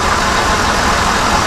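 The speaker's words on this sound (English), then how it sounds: "it's idling at 900 versus 500 before, because it was only running on 5 cylinders." A car engine with a cylinder misfire fault idles smoothly and steadily after new injectors were fitted, a constant close rumble with no other sounds.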